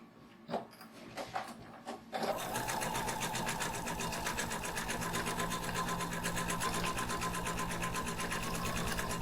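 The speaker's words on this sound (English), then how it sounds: "Now stitch a normal stitch line here." A sewing machine runs a normal straight stitch line on a shoulder bag piece, a continuous close, rhythmic mechanical chatter lasting about seven seconds after a few soft handling taps.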